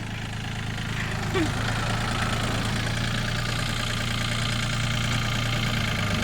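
A Yanmar 35 hp farm tractor engine runs at a steady idle-like drone, loud and continuous throughout, with a low hum and a faint rattling texture.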